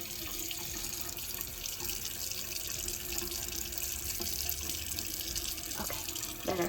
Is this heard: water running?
yes